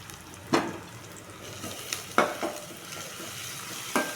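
Ginger, garlic and onions frying in a pan, a steady close sizzle broken by a few sharp scraping stirs of a spatula.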